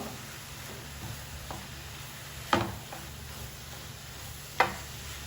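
Bitter gourd stir-frying in a pan on low heat, a steady soft sizzle throughout with two sharp scraping stirs of a spoon, alone without talk.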